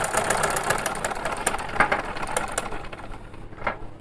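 A sewing machine runs while it skips stitches, a quick close mechanical clatter of needle strokes that fades slightly toward the end.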